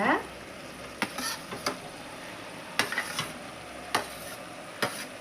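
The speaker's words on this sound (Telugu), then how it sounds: "నేను ఉల్లిగడ ముక్కలు కూడా వేసేస్తున్నాను" Onion pieces drop into a hot pan of oil for a cluster bean curry and keep frying with a steady sizzle, punctuated by several sharp clinks of a spatula stirring against the pan.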